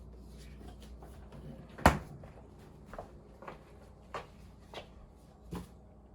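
A kitchen cabinet door being opened during a home economics cooking lesson: one sharp, close knock or clack, followed by a few softer, fainter bumps and taps in a quiet room.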